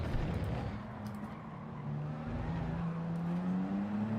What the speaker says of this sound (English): Oh, one of them almost losing it. I heard the tyre squeal there.